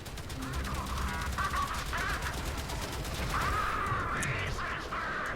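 Zetki weapons firing in the video game Warframe during a space fighter mission, a dense rapid stream of gunfire bursts with whooshing effects, moderately loud and continuous, with faint game sounds underneath.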